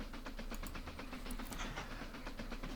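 Steam-age log train running in the Mashinky video game, a steady clickety-clack of wheels over rail joints with a continuous rumbling engine underneath, loud and close with no talk.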